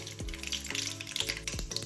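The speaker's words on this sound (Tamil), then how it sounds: "இப்போ என்ன சூடாயிடுச்சு கடுகு சேர்த்துக்கிறேன்" Mustard seeds crackle and sizzle in hot oil in a pan, a dense close frying hiss with sharp pops, and a few louder clatters that sound like stirring, no voices over it.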